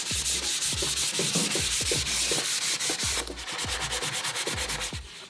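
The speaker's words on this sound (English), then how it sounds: "I'm going to grab a piece of hand sandpaper and just give it a final polish around the edges" Hand sanding the edges of a wooden skateboard deck with a piece of sandpaper: steady, close scratchy strokes repeating in a quick rhythm, with no talking.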